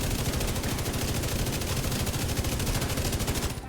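Light machine gun in The Division 2 firing one long unbroken automatic burst, a loud, rapid, even rattle of shots that runs nearly four seconds before cutting off, with no voice over it.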